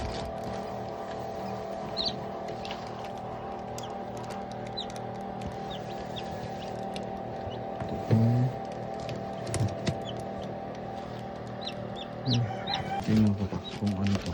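Chickens and newly hatched chicks near an incubator give faint clucks and occasional chirps over a low, constant background hum, with the calls becoming more noticeable toward the end.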